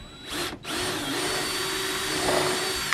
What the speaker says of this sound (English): Pre-drill a hole there.